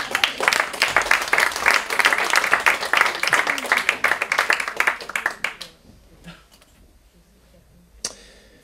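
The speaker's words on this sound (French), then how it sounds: "Tu peux m'applaudir si tu veux." Audience applause fills the first five and a half seconds as dense, steady clapping, then stops abruptly, leaving near-silence with a single faint clap-like tap near the end.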